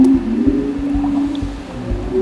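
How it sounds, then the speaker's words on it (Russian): A low, sustained tonal moan of whale song hums through murky underwater noise off Ecuador, picked up by a microphone lowered into the water, with soft rhythmic thumps beneath it. "Мы услышали, как поют киты."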